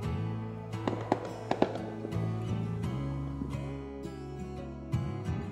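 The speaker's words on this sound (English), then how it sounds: "Those are fireworks." Fourth of July fireworks pop and crack in a cluster of sharp bangs, some close together, over a steady background drone, then fade to scattered single reports.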